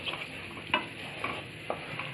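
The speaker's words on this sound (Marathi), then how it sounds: "हे सुद्धा आपण जरा 1 मिनिट चांगलं शिजवून घेऊया" Tomato cooked in a pan for a Marathi jackfruit vegetable dish gets stirred with a few sharp spoon scrapes over a soft, steady sizzle, close and fairly quiet.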